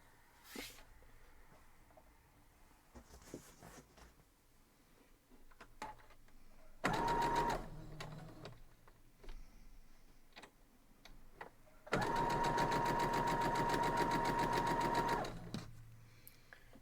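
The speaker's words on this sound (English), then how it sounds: "So I'm just going to sew these two together" A sewing machine stitches fabric for a quilt block in two bursts, a short one and then a longer steady whir of rapid stitching, with quiet pauses between.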